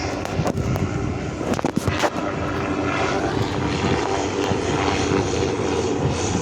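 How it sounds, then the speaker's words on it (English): The Goodyear blimp Wingfoot 1 runs its engines while hovering at an airshow, producing a loud, sustained propeller drone. A few sharp bangs and knocks come early on. "Wingfoot 1 is demonstrating the power of their engines"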